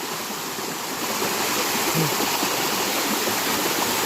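Water from the Bua Tong waterfall in Thailand rushes and roars continuously, a loud broadband hiss that holds steady throughout.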